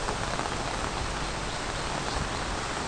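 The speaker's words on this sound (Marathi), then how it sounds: "कारण रात्रभर पाऊस पडतोय." Heavy monsoon rain pours steadily, a dense even hiss close by with no voices.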